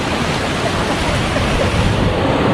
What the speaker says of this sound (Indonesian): kita menunggu airnya datang, air lautnya datang